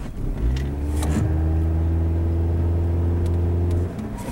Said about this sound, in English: and then I'll give it some gas